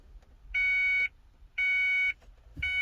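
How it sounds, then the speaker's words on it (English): A car's homemade push-to-start ignition system sounds an alarm: three loud electronic beeps, each about half a second long, repeating at an even pace over a faint low rumble. "you get that alarm"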